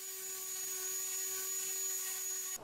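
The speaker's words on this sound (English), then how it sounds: "gave the top and the corners a good sanding with an orbital sander" An orbital sander runs on the wooden top and corners of a DIY sandbox. It gives a steady, loud, high whine that holds constant and then cuts off abruptly at the end.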